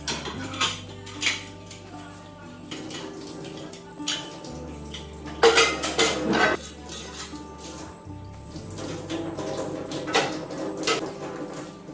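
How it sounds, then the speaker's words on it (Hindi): Kitchen dishwashing in a home: pots, pans and cutlery clatter and clink in scattered bursts over running water, with a louder cluster of metallic knocks midway, close and fairly loud. "इसके बाद मैंने बर्तन भी वॉश कर लिए थे"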